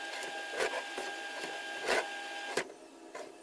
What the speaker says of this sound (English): Finally, printing document.